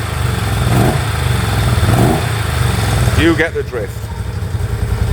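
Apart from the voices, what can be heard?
1979 Moto Guzzi V35 motorcycle engine running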